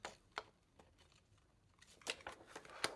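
Scissors snipping through a clear transparency sheet, a few sharp close cuts with crisp crinkling in between, quiet and isolated.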